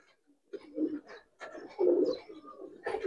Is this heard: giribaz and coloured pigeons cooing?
yes